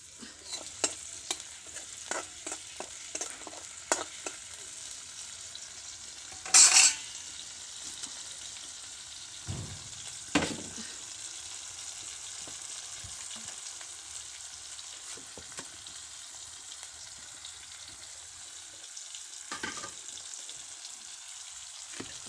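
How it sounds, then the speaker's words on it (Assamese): Quiet, steady sizzling of onion and garlic frying in a pan on a clay stove, with occasional scraping stirs and a few brief clinks. "পিঁয়াজ আৰু নহৰুখিনি ভাজি লৈছোঁ ৰঙাকৈ"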